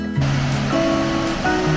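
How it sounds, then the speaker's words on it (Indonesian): Steady roaring rush of water falling at Tumpak Sewu waterfall in Lumajang, East Java, like heavy spray crashing down nearby, continuous and fairly loud for a brief moment. "kena deburan dari air yang jatuh dari atas ini ya"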